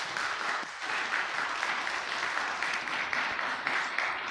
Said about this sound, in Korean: 영광의 박수로 하나님께 올려드리겠습니다.